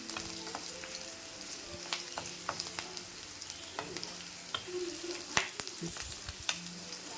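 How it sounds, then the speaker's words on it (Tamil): Onions sauté in a pan for avarakkai poriyal, a soft, steady sizzle broken by frequent sharp clicks and scrapes of a spatula stirring against the metal. "வெங்காயம் கொஞ்சம் நல்லா வதங்கின உடனே நம்ம அவரைக்காய் போடணும்."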